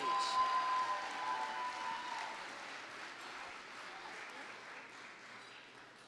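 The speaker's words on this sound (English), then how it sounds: "Please give them a round of applause as they come to the stage." Audience applause at an awards gala, a steady wash of clapping from a large room that starts loud and slowly tapers over several seconds, with no voices over it.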